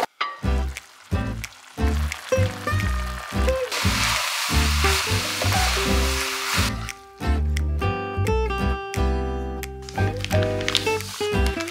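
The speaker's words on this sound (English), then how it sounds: "Pan fry some of these dumplings and have it with ramen" Frozen dumplings pan frying give a bright burst of sizzling in the middle of the clip, heard beneath and between louder melodic background music.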